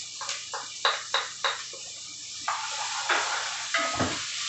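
Chopped onion and fresh garlic sizzle in hot coconut oil in a pan, a loud close frying hiss broken by several rhythmic stirring scrapes and clatters, with no one talking.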